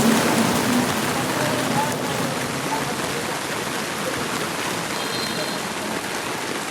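Heavy rain pouring down in a dense, steady roar of drops close by, constant throughout.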